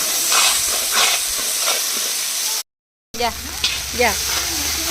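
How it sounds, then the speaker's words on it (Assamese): Chicken pieces from a large home-cooked batch sizzle loudly in hot, spiced oil and are stirred with short scraping strokes. A brief silent cut interrupts the steady frying hiss partway through. "আৰু অলপমান ভাজি আমি চিকেনটো ইয়াতে দি দিম"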